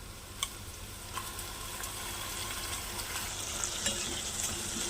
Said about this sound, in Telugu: ఇప్పుడు ఈ పుదీనా మొత్తం కూడా దీంట్లో బాగా వేగాలండి